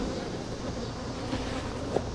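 Agitated bees buzz close around an opened beehive, a thick, steady, loud droning hum that holds without a break for a couple of seconds, with no voices.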